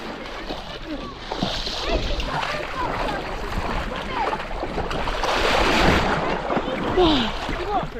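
People splash about in refreshing beach water, with continuous sloshing and surf noise close by and voices chattering over it.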